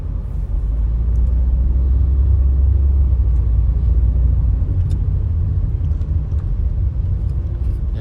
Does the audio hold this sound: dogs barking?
no